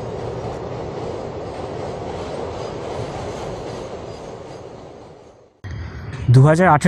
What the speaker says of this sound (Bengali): সকালে শান্ত পরিবেশকে অশান্ত করে তুলছে ট্রেনের লোহার চাকার ঘর্ষণ